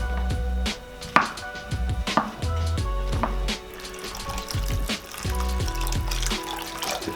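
Knife chopping carrot on a cutting board for a red lentil pasta sauce, a series of sharp irregular cuts over running tap water and kitchen sink noise, close and fairly loud.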